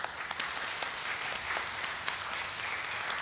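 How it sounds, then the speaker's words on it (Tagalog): A church congregation applauds in a steady wash of dense clapping, fairly soft and distant, with no talk over it. "Sige po, pumalakpak tayo ng malakas kay Lord."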